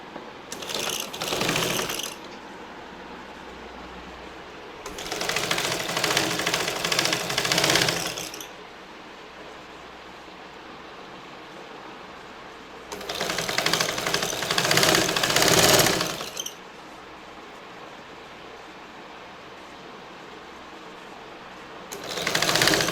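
A sewing machine stitches piping onto the slits of a churidar top in four loud, steady bursts of whirring, each lasting a few seconds. Quiet pauses separate the bursts, and the machine is heard close up with no talking.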